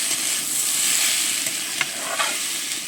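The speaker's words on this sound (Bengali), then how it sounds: "এবারে নেড়ে চেড়ে আমি একটু শুক্তোটাও কষে নেব" Papaya shukto being stirred and fried in a pan: a steady close sizzle of frying with scraping, shuffling stir strokes of a spatula running throughout, no voices.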